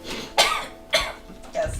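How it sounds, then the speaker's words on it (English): A woman gives three short, harsh coughs in quick succession after taking a shot of liquor, close and clear against a quiet room. "Is that in character her coughing on the shot?"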